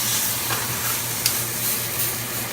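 A steak sears in oil in a pan just after being flipped, producing a loud, continuous frying sizzle with a brief sharp tick partway through and no talking.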